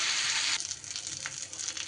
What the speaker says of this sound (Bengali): আমি চিকেনটাকে একটু এইভাবে নাড়াচাড়া করে নেব